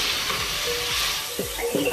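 Chicken sizzles and fries in a pan while a spoon stirs it, a continuous hiss broken by a few soft scrapes and knocks near the end.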